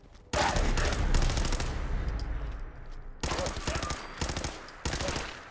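Long bursts of automatic gunfire in Fallout 4, rapid shots rattling loudly for about three seconds, then a brief pause before more short bursts close up.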